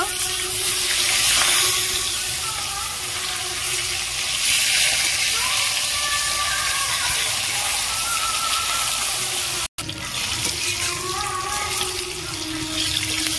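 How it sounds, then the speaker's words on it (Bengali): Koi fish frying in mustard oil, a steady, close sizzling and crackling hiss that runs throughout with little change, briefly cut by a short dropout near the end. "মাছগুলো ভাজা হয়ে গেছে, তুলে দেব।"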